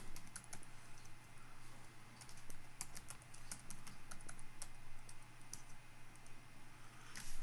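Steady typing on a computer keyboard during a Devuan Linux 3.0.0 install, with quiet, close key clicks in an uneven rhythm throughout and no talking.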